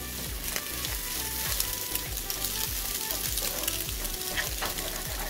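An egg dish seasoned with salt frying lightly in a pan, a continuous close sizzle broken by regular scraping strokes of a spatula stirring, with no voices.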